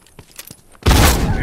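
A grenade explodes in The Last of Us Remastered: a sudden loud, close blast that bursts in after quieter scattered sounds and rumbles on with heavy, sustained noise.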